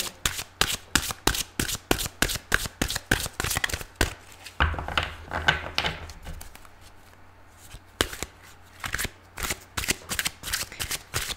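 Tarot cards are shuffled in quick riffling bursts, a rapid regular patter that pauses briefly midway and then resumes, close and crisp.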